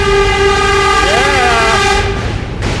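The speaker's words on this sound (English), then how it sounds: "The N train, Manhattan-bound N train." Manhattan-bound N subway train sounding a loud sustained multi-tone horn while crossing a bridge, steady throughout with a brief pitch bend midway, over loud rumbling traffic and wind.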